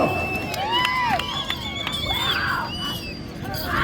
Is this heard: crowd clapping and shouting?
yes